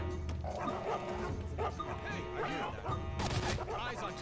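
A guard dog in the stealth video game Mark of the Ninja barks and yips in several sharp bursts over a steady bed of game noise.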